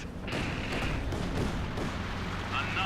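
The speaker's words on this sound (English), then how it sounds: "B4 fires as well." A B4 howitzer fires during a Company of Heroes 2 battle, one heavy boom rising over dense rumbling combat noise with a sharp crack near the start.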